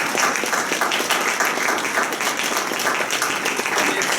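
An audience at an annual meeting claps steadily throughout, a dense, even wash of many hands close by with no pauses.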